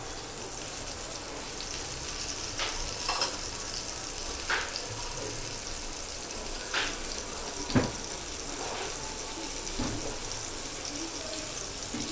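Bombil fish fry in hot oil on a heated tawa, giving a faint, steady broadband hiss dotted with scattered soft pops and crackles throughout.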